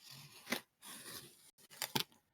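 A knife slices through packing tape to open a box, giving a few quick, sharp rasping cuts close to the microphone with brief pauses between them.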